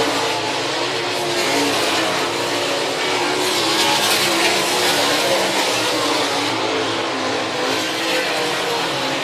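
410 sprint cars race on a half-mile dirt track, a dense continuous roar of engines at full throttle that stays loud throughout, with a swell as the pack passes.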